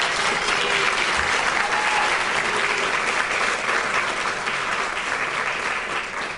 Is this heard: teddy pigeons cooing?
no